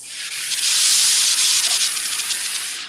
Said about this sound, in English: I want to make sure I flush any potential condensation before I use it, so I have that dry steam every single time